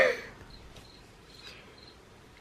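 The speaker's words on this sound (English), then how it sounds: "The cricket is going again." A cricket chirps in short, faint, evenly spaced high trills, a little distant in a quiet indoor room, with no talking.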